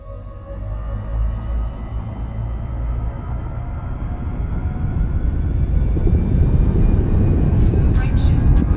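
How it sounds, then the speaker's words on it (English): A frameshift drive charging in a space game, a low rumbling hum that swells steadily louder over several seconds, with a bright crackling burst near the end; a voice may speak over it. "Frameshift drive charging."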